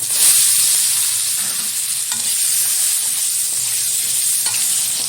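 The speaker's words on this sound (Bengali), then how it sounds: "টুকরো করে রাখা পটলগুলো ভালোভাবে ভেজে তুলে নেব একটা পাত্রে।" Thinly sliced pointed gourd frying in oil with turmeric and salt, a steady bright crackling sizzle throughout, close and fairly loud, with occasional faint stirring scrapes.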